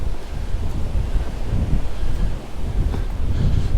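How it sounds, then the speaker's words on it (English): Strong gusty wind buffeting the microphone on a beach at Cala Bona, Mallorca, a loud continuous low rumble that swells and dips with the gusts, with surf faintly mixed in and no voices. "another strong gusty wind"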